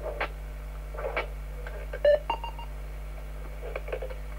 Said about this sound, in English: that's the 10-second countdown for the end of the round